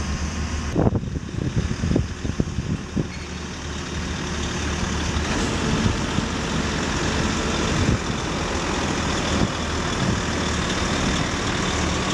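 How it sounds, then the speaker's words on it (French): Heavy trucks carrying prefabricated walls onto a villa construction site rumble with a deep, continuous engine drone at close range, with a few sharp knocks early on before the engine noise settles into a steady idle. "c'est l'entrée en scène des camions transportant les murs sur le site"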